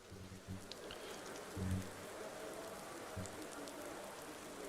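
Rain falling in the Automobilista 2 sim racing game on the Curvelo Short circuit, with Caterham cars lined up for a wet race start: a steady, fairly faint hiss of rainfall that runs the whole time, with a few low thumps underneath.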